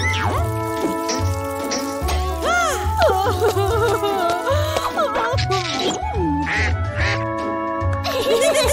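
A duck quacks again and again in a kids' cartoon. The quacks are close and fairly loud, over steady music with bright melodic tones all the way through.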